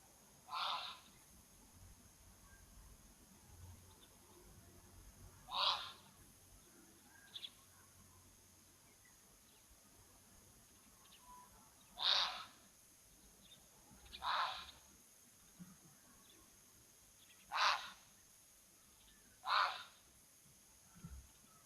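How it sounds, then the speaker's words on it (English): Zebra alarm calls at a waterhole, seven or eight harsh, honking barks spaced irregularly over a quiet outdoor background, faint and somewhat distant, with no talking. "It did also sound like it could have been the alarm call of a zebra"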